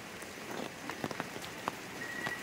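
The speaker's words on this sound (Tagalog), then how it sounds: "Lumakas ang ulan." Heavy rain falls steadily at an overnight stay in Tanay, a dense constant patter with occasional louder drops.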